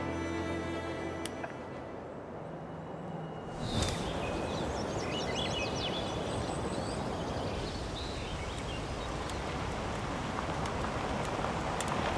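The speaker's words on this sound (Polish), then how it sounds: "śpiew ptaków, szum wiatru w koronach drzew" Steady broadband rush of wind through tree crowns in a landscape park, with faint, scattered birdsong chirps above it, continuous and fairly even throughout.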